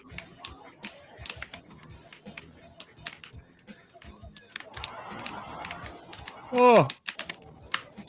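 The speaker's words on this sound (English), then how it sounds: "Can you hear my keyboard?" Rapid clicky keystrokes from a computer keyboard rattle on steadily and close up during gameplay, with a brief exclamation and a short loud vocal burst near the end.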